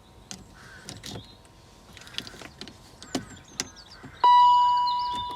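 A 2002 Range Rover L322 steering column lock gives a few sharp, close mechanical clicks over faint background noise, then a loud sustained warning chime that slowly fades.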